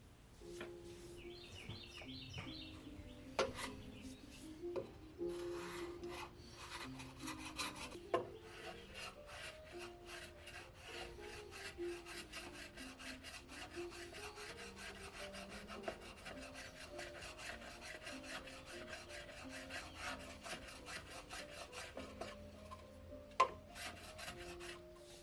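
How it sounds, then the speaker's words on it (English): A narrow square file works a wooden quarter knee for a boat's sheer structure, giving a steady run of close, quick rasping strokes while birds chirp faintly in the background. "Once the fit was really close, I came back in with a file to make some fine adjustments."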